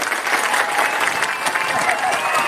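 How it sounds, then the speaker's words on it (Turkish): A crowd gives a hearty, continuous round of clapping at a retirement farewell for a retiring man, dense and even throughout, with voices faintly mixed in beneath the applause. "Kendisine kocaman bir alkış istiyoruz."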